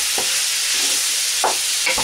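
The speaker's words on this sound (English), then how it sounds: "In goes the garlic. Give that a stir." Garlic sizzles steadily in an old iron pan, with a few soft scraping stirs punctuating the broadband frying hiss, close and fairly loud with no talking.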